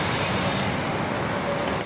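Heavy Saturday road traffic on Harrington Road, a dense, steady wash of engine and tyre noise from passing cars and buses, even and fairly loud throughout with no talking.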